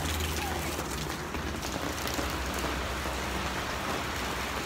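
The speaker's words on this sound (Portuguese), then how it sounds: "Vem pra cá, muita chuva, muita água aí, ó." Heavy rain pours down steadily throughout, a dense, loud hiss of drops drumming on surfaces with a low rumbling undertone, heard on a road trip between Tubarão, Curitiba and São Paulo.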